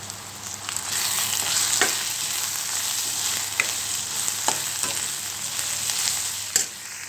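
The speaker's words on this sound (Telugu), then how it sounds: "కూర వేసుకొని కలుపుకోవాలి ఇప్పుడు పసుపు వేసుకొని కలుపుకోవాలండి" Curry sizzles and fries steadily in a pan with tamarind-leaf and egg curry ingredients, a dense continuous hiss broken by occasional sharp scraping clicks of a spoon stirring, with no talk over it.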